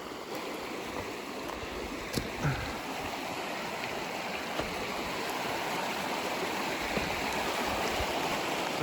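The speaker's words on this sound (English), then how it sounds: "Some small rapids down here, deep water, some rocks, hemlocks." Small rapids in a hemlock gorge on the Gunpowder River, a steady broadband rush of flowing water over rocks close by, continuous with no voices.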